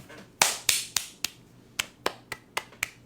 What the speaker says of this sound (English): I can't clap too loud because I don't want to hurt your ears